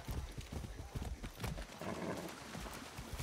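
Horse hooves clop in a quick, galloping rhythm as a horse is ridden off-road in Far Cry 6, moderately close and fairly quiet, with a brief whinny-like sound mixed in.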